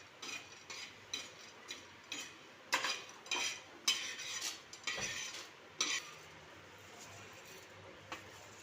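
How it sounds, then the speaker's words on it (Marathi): Chana dal dry-roasting in a pan, stirred with a spoon: a series of rhythmic scraping strokes and light rattles of the lentils against the metal, close and fairly soft, fading to sparse taps toward the end. "डाळ अशी आपल्याला लालसर होईपर्यंत भाजायची आहे"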